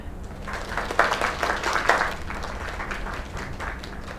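A crowd applauds with dense, steady clapping that peaks briefly then settles, continuing throughout without any voices standing out.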